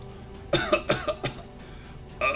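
A man coughs in a rough burst of four or five close hacks in quick succession, then a pause and one more cough, loud against a quiet background.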